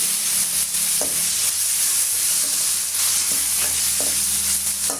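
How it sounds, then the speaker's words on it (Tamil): Chopped tomatoes tipped into ginger and garlic frying in a pan, a loud, steady sizzle and hiss with a few soft stirring knocks at close range. "ரெண்டு பெரிய சைஸு தக்காளி பழம் வந்து கட் பண்ணி வச்சுருக்கேன் அதையுமே சேர்த்துக்கலாம்"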